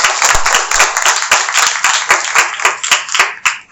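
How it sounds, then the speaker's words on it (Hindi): A church congregation applauding, a burst of close, loud clapping with distinct irregular hand strikes that fades and thins out toward the end. "तो फिर जोरदार तालियां बजाएं परमेश्वर"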